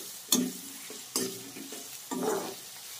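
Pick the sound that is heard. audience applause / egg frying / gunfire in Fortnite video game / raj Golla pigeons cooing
egg frying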